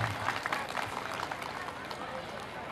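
Applause from an audience at a Pun community gathering in Khairahani, a dense, steady crackle of many hands clapping together that fills the whole stretch at a moderate level, with voices in the crowd mixed in.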